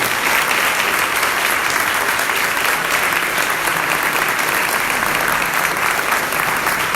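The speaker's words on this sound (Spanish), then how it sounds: "le doy un fuerte aplauso." A church congregation claps together in loud, continuous applause, a dense steady patter that fills the room close by with no speech over it.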